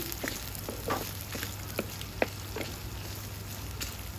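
Gentle frying sizzle in oil with scattered small pops and crackles over a low hum, steady and close, no voices.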